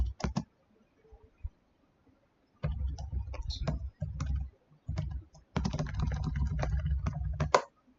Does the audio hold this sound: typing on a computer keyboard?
yes